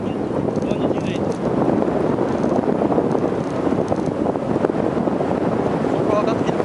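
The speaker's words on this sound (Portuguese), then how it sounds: "O vento tá vindo do lado direito." Wind roars steadily across the microphone during a paraglider flight, a loud, constant broadband rush with no letup throughout.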